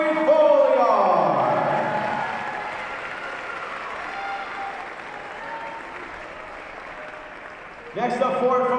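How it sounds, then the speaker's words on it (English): Fans applauding at a women's college basketball game in a gym, a crowd clapping and cheering that swells early then fades, with an announcer's voice returning near the end. "Fans, let's have a round of applause for number 20,"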